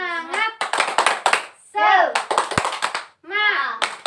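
Children in a classroom Islamic jurisprudence lesson do the tepuk semangat chant, with young voices chanting in bursts and groups of sharp, rhythmic hand claps between them, loud and close.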